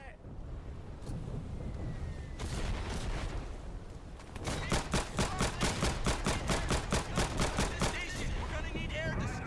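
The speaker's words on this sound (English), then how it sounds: "I'm being shot at." Heavy gunfire in the World War II shooter Day of Infamy during a beach assault, with dense rapid bursts and repeated shots close by that grow louder and more rhythmic in the second half, under an ongoing battle din.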